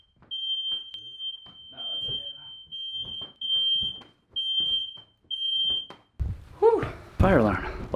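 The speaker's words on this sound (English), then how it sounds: "Fire alarm, a lot of smoke." Smoke detector fire alarm on a music video set, sounding repeated steady high beeps in short bursts with brief gaps, followed by thuds and louder clatter near the end.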